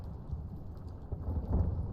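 Low rumbling thunder rolls through a storm at sea in The Witcher 3 video game, a deep muffled swell that builds louder toward the end, with no talk over it.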